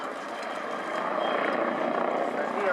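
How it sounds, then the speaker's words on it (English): A civil helicopter flying a display at the Royal International Air Tattoo 2015 air show, a steady broadband rotor and turbine roar that swells slightly louder as it passes in front of the crowd line. "A civil helicopter, but it was still late"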